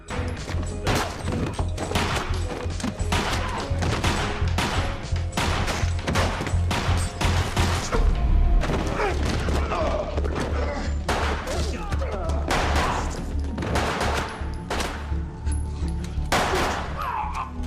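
Rapid bursts of gunfire ring out in a film shootout between gangsters, a dense run of sharp loud shots and crashes repeating throughout, with faint voices underneath.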